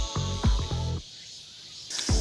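Cicadas on a mountain trail during a hike down, a loud, steady high-pitched buzz that pulses and cuts off briefly before returning, with no talking.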